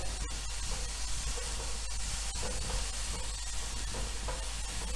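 Coriander roasts and is stirred in a hot pan, a continuous close sizzle and hiss with scattered sharp crackles and scraping ticks from the stirring, steady throughout with no voices.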